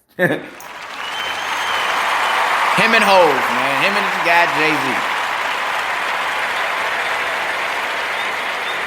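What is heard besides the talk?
audience applause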